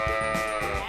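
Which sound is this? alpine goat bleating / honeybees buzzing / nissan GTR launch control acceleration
alpine goat bleating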